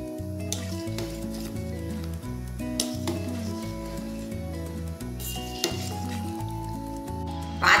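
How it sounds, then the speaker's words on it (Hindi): Suji balls boil in a pot of water while a spoon stirs them, giving scattered metallic clinks and soft bubbling over steady background music. "अब इसको 5 मिनट उबाल लेंगे। एक बार इसको चम्मच से इस तरह से घुमा देंगे।"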